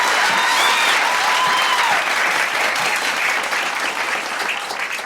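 Sustained audience applause fills an EDTalks auditorium, dense steady clapping throughout with a few high whistle-like tones early on, gradually thinning slightly toward the end.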